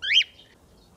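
A single bright chirp from a pet bird in its new large cage indoors, a quick rising and falling note lasting a fraction of a second, then quiet.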